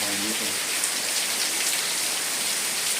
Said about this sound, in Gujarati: કન્ટિન્યુઅસ વરસાદ પડે છે ગજબ વરસાદ